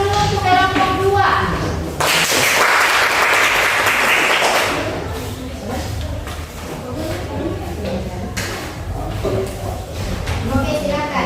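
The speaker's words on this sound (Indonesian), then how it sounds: "kasih aplaus dulu untuk kelompok 2" A classroom audience bursts into loud, dense applause for a presenting student group, a clatter of many hands lasting a few seconds that fades into talk and rustling.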